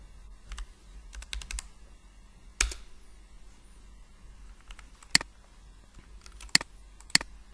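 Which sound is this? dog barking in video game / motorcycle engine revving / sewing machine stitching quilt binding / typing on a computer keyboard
typing on a computer keyboard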